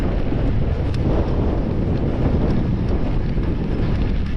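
Strong wind roaring steadily across the microphone while riding an electric mountain bike on a trail near Sunbilla, a dense continuous rumble and buffeting with no pauses.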